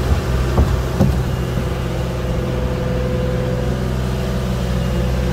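A concrete lorry arriving at a Blackpool construction site gives a steady, low diesel engine rumble with a constant drone, plus a couple of faint clanks early on and no speech.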